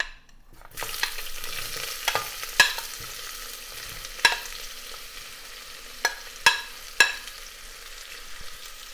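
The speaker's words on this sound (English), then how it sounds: "Once they say pop pop, then we can add 2 whole onions which have been chopped" Chopped onions hit hot oil with whole cardamom pods and a cinnamon stick for a lamb and onion salan, giving a steady close sizzle broken by several sharp spoon knocks and pops.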